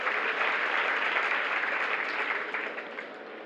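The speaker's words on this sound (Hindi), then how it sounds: "ये ताली क्यों बजाई आज?" An audience at a religious discourse claps in a dense, sustained round of applause that carries on steadily and fades slightly toward the end.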